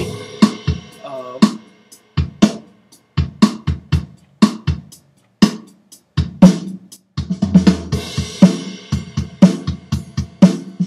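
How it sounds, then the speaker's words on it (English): A Logic Pro X software drummer pattern with prominent, louder snare hits over kick and cymbals, growing busier toward the end, with no talking. "now it gets a little bit more loud on the snare drum."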